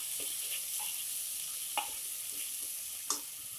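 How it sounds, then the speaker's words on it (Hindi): Red chili masala fries with tomatoes in a pan for veg tahari, a soft continuous sizzle punctuated by a few sharp spatula scrapes and taps, close and without voices. "मसाला को हम अच्छे से टमाटर के साथ मिक्स करके भूनेंगे।"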